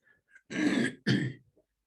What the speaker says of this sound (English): Just clear my throat a bit.